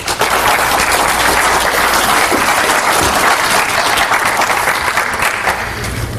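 Audience welcoming a speaker at a practice-building seminar with sustained, loud, steady applause from a full crowd, many hands clapping at once for several seconds without a pause.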